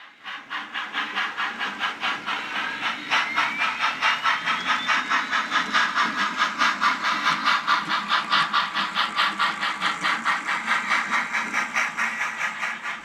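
An HO scale model train runs on a Sierra Railroad layout, producing a steady rhythmic clicking of wheels over track joints with a hissing mechanical whir, fairly close and continuous.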